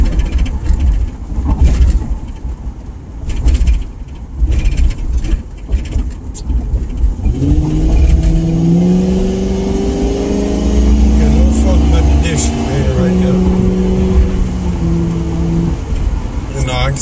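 A car rolling slowly through a city district, first rumbling with loud wind-like noise, then a steady engine hum with rising whine over the second half, continuous and close.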